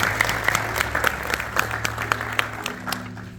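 Audience applause at an NAACP annual banquet awards ceremony, a steady wash of many hands clapping with crisp individual claps standing out, sustained for the whole stretch at moderate loudness.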